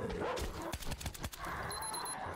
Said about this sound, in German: Böser Hund.